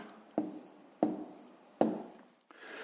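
Numbers handwritten on paper with a pen: four short, close, scratchy strokes separated by brief pauses, heard alone in a quiet room.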